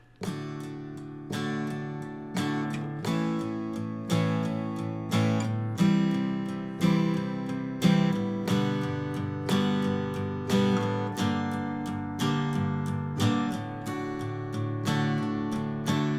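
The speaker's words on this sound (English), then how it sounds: "We're going to do a full strum on those big accented strums and then just a light brush." Acoustic guitar strummed in a steady rhythm, heavy accented strums alternating with lighter brushes across the strings, close and clear with no voices.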